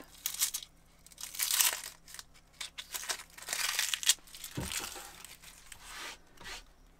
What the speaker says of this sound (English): Remove the outer layer of paper